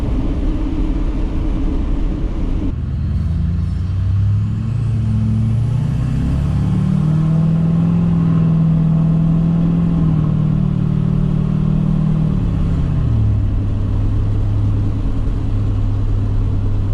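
A Duramax diesel truck fitted with a 5-inch MBRP exhaust rumbles close by, then revs up into a rising, sustained deep roar before dropping back to a lower idle drone, with no talk.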